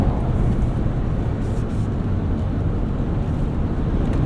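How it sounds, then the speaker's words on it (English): A 2024 Toyota Land Cruiser with an 8-speed automatic accelerates, heard from inside the cabin as a steady low engine and road rumble with smooth, barely noticeable shifts. "Let's see what acceleration is like. Nice, quick, smooth gear changes from the 8-speed auto here."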